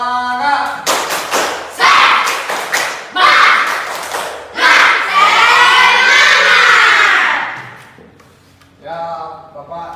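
Children in a classroom perform the tepuk semangat clapping chant, loud rhythmic bursts of clapping and shouting voices in quick patterned groups, ending in a drawn-out cheer before fading to a lone voice.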